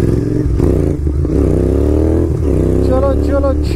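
A Kawasaki Z900 motorcycle engine drones loudly and steadily while riding, its pitch climbing as it accelerates before dipping briefly, with someone talking over the engine noise.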